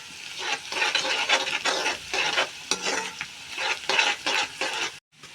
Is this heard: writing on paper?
no